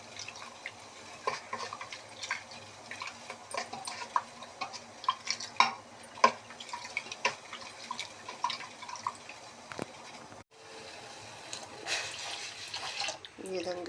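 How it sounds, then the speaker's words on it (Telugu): A spoon stirs salted water in a pot as flour is mixed in, making soft, irregular clinks and scrapes under a person talking throughout. "తిప్పుతూ ఉండాలండి, లేకపోతే గడ్డలు కట్టేస్తుంది."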